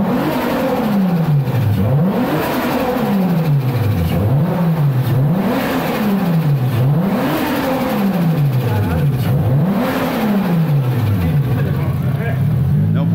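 A turbocharged Toyota Supra engine of about 600 hp revs repeatedly in rising and falling sweeps, each pull climbing then dropping with fluttering turbo chatter, loud and close, with talk in the background.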